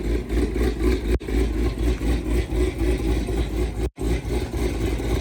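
A Dodge Hellcat's engine idles and revs, a deep, throbbing rumble that pulses steadily, broken by two brief sharp dropouts.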